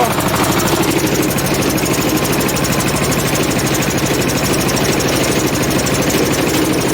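A loud Shifeng SF 160 tractor engine chugs nearby while ploughing a field, with a rapid, steady rhythmic pulse and heavy mechanical vibration throughout, with no voices.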